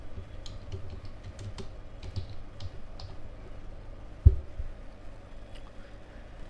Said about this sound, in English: Then here I type my address.